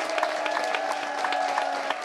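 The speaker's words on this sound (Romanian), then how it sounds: "Aplauze!" A television studio audience applauds steadily after a dance number on a Romanian entertainment show, a dense even clapping that fills the room at moderate loudness without pause.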